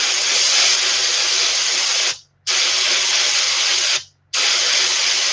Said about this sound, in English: This sepia paint spray's just terrible.